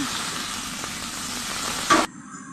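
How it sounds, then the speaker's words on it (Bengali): Potatoes sizzle steadily in hot oil with onion and green chili, with a brief louder scrape of stirring near the end before the frying noise abruptly stops. "এবারে পেঁয়াজ আর কাঁচা লঙ্কা দিয়ে একটু নেড়ে নিয়ে আলুগুলো দিয়ে নাড়ছি"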